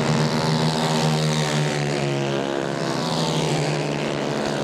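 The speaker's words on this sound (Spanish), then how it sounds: "nosotros vamos a escuchar los motores 150 centímetros cúbicos" 150cc kart engines race down the main straight at a provincial motorsport event, a loud, steady, buzzing drone that holds without a break.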